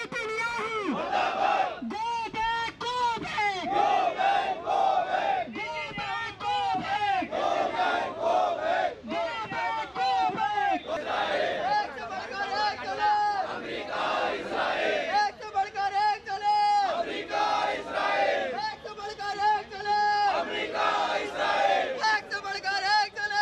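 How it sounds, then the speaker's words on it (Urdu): Protesters at a march against Israeli Prime Minister Netanyahu's visit to India chant slogans against Netanyahu, Israel and America. A loud, dense crowd shouts rhythmic, repeated call-and-response chants that continue steadily and close by throughout. "نتنیاہو گو بیک اور اسرائیل مردہ باد، امریکہ مردہ باد جیسے نعرے بھی لگائے گئے"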